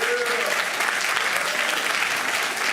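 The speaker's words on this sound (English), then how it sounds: "Let's give them another round of applause." Dense, steady applause fills a school board meeting room, many hands clapping together at an even level for the whole stretch with no voices breaking through.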